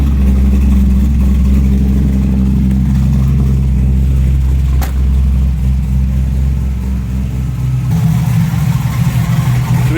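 A Camaro with an LS V8, a cam swap and loud aftermarket mufflers idles close by, a deep, loud and lumpy rumble that runs without a break for the whole stretch.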